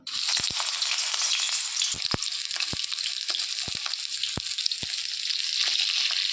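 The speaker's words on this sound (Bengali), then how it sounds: "কড়াইও তেল গরম করতে বসিয়ে দিয়েছি, তেলটাও গরম হয়ে গিয়েছে। এবার পটলগুলো ভেজে নেব।" Pointed gourd pieces fry in hot oil in a wok with a loud, continuous close sizzle, punctuated by sharp pops and crackles throughout.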